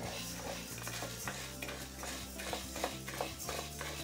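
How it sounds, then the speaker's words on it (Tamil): Black urad dal dry roasting on a high flame gives a faint rattling scrape as it is stirred around the pan, in soft, repeated strokes over a low hum. "ஹை ஃப்ளேமில் வச்சுட்டு வறுத்துக்கோங்க."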